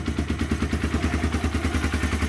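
A Lexmoto Street 125 DFE125-8A motorcycle, rescued from scrap, idles after being started cold without choke; its single-cylinder engine chugs steadily with an even, rapid pulsing clatter, close and alone.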